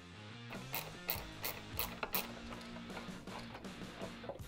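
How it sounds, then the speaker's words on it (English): A ratchet with a 10mm pass-through socket loosens a nut on a Harley-Davidson vent assembly. It gives a close, fairly quiet series of uneven clicking strokes with light metal rubbing and no speech. "I'll use a 10mm pass-through socket."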